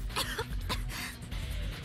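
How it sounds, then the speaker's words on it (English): Violent coughing fit from a character in the video game Root Double, trapped on a burning building's fourth floor, a few harsh, close coughs in quick succession over a low background hum. "Wataru broke into a violent coughing fit."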